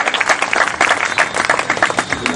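An audience applauding after a donation pledge at a public gathering, brisk close clapping from a modest crowd that carries on steadily throughout.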